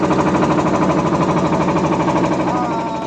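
A loud, steady boat engine chugs close by with a rapid, even pulsing throb that continues for the whole stretch without pause, on the way across the Sonbil wetland in Karimganj, Assam.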